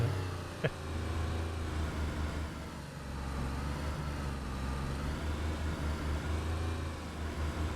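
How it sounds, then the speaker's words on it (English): A car engine in the DayZ video game runs at a steady low rumble, slightly uneven and running rich, with a single brief click near the start and no talking. "We're running a little rich on the engine"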